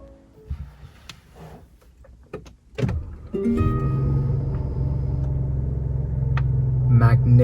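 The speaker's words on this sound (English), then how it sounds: "let us start up this rolling statement of success, the Rolls-Royce Ghost" A 2021 Rolls-Royce Ghost starting up: a few soft clicks and a brief whir give way to a smooth, steady engine idle that settles in and continues low and even to the end.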